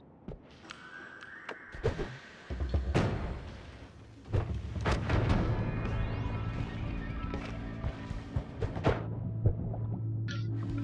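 A bomb blast in the pixel-physics game Noita, a deep low thump near the middle that swells into a sustained rumbling roar of crumbling debris, amid scattered clicks and game effects.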